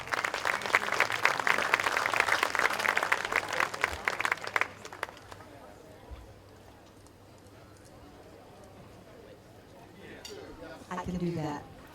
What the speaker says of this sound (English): Round of applause to the community and to you guys.